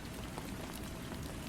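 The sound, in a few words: gentle rain falling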